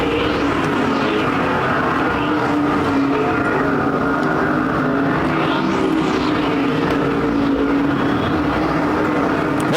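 Super stock race cars roar around the Perris Auto Speedway track in a main event, a loud continuous engine drone with cars sweeping past in rising and falling waves, no talk.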